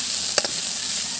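Dried fish drops into hot oil in a frying pan, giving a steady, close hiss of sizzling with a brief sharp crackle and pop in the middle of the short burst.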